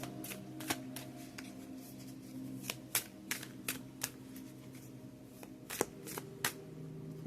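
Tarot cards are shuffled by hand in a quiet room: a run of crisp riffling bursts and soft slaps, close and fairly clear, over a low steady hum.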